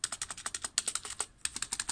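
A new computer keyboard is typed on, with quick, close, crisp key clicks in a rapid uneven rhythm, a brief pause, then more steady keystrokes.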